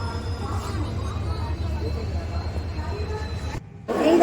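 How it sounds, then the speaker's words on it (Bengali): A train's low, steady rumble rolls on, briefly drops away, then returns louder and closer as it arrives at Santragachi station. "এই ট্রেন ঢুকছে"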